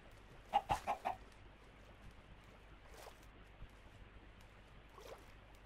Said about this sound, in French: On va leur mettre des poulets dans leur cage.